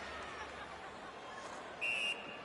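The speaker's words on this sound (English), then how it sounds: "And the whistle signals an offside." In the ice hockey video game NHL 19, a referee blows one short, shrill whistle to call offside over a faint, hushed arena background.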